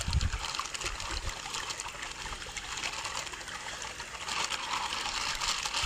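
A swollen stream running high with water at a fishing spot rushes and trickles steadily throughout, a continuous close wash of flowing water with no voices.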